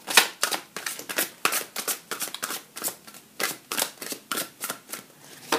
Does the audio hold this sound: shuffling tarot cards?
yes